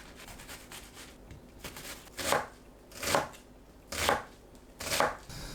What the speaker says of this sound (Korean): 양파를 작게 썰어줍니다.